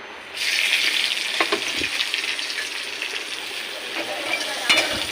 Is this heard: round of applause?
no